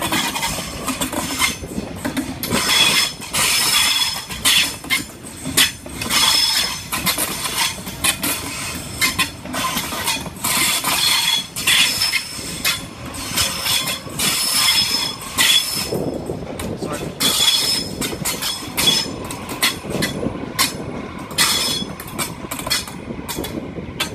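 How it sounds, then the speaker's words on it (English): Train A48 pulls into platform 10 at Central station, a loud, close rumble of rolling wheels with repeated rail clatter, clanks and bursts of high wheel squeal throughout. "Here we are, A48, arriving in platform number 10."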